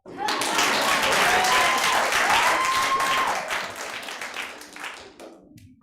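An audience at a festival performance of new trans and nonbinary work claps loudly and steadily, with some voices mixed in, before the applause tapers off.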